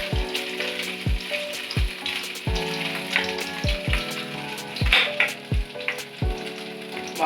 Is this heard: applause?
no